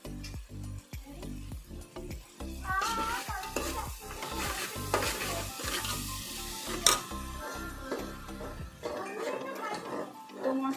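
Spices and cinnamon pieces fry in hot oil with a steady sizzle, broken by repeated scraping stirs from a utensil. A voice talks over parts of it, and the frying goes on alone near the end.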